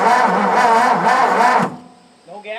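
A 1958 Ford F600 truck engine is cranked up close: a loud, rough, churning burst lasts under two seconds and then cuts off, leaving a brief lull before a short voice or tonal sound.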